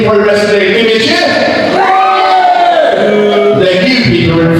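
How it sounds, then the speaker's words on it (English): Spectators at a Brindley Pro Wrestling show cheer and shout loudly, a close, sustained crowd roar with individual voices rising and falling within it. "give me a cheer!"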